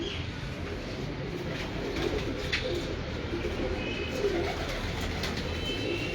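Pigeons at a rooftop loft, kept by a pigeon fancier, coo softly and repeatedly over a steady background hum, moderately near, with a few faint chirps mixed in.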